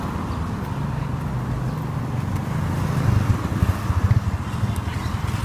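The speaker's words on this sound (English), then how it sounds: "There's a lot of cars." Steady road traffic on Batam Island, Indonesia, with cars passing nearby in a continuous low rumble that swells slightly toward the end, heard without talk.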